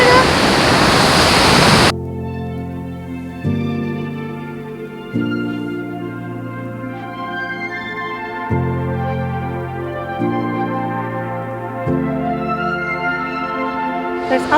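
Roaring white noise from Grand Portage waterfall, the tallest in Minnesota on the North Shore, fills the first two seconds loudly, then cuts to steady tonal music for the rest.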